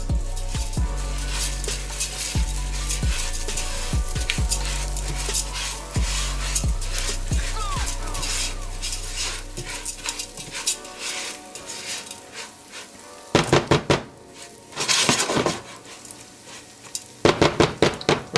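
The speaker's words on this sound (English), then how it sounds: "Now I'm gonna take our rice, about 2 cups. We're gonna drop that in. We're gonna give that a mix." About two cups of rice poured into a pan and stirred for a mushroom risotto, a steady sizzle under repeated scraping and knocking of a utensil against the pan, ending with a few sharp clatters.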